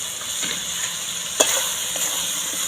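Boiled clam meat being stir-fried with fried potato pieces and ground spices in hot oil in a Bengali kitchen, giving a steady close sizzle with soft scraping strokes and one sharp clack of the spatula midway.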